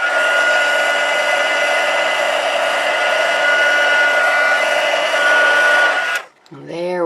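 A heat tool blows a loud, steady whirring stream of hot air over embossing powder on a stamped rose card, running without pause for about six seconds before switching off abruptly.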